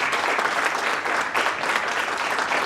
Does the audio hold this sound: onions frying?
no